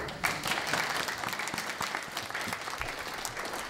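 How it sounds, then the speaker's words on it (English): An audience breaks into steady applause, many hands clapping in a dense, lively patter that stays fairly loud and even throughout, with a few louder individual claps standing out and no talk over it. "You want to applaud? Go right ahead."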